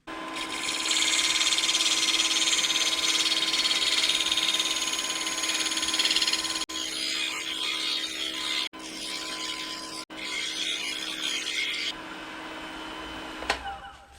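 Steel skew chisel laid flat as a scraper against a spinning wooden ornament on a lathe, giving a steady broadband hiss and whir with a constant motor hum, briefly broken by short gaps, then easing off toward the end.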